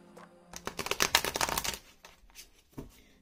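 Oracle cards being shuffled in a quick flurry of crisp riffling clicks, close up, then a few scattered taps and a final snap.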